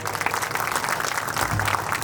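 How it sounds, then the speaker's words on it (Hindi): Loud, dense applause from the audience at the Ellora Seeds crop show, an agricultural farming event, a steady burst of many hands clapping that holds at full strength for the whole stretch. "आप अपना स्वागत अपने ही तालियों से, जोरदार तालियों से करें"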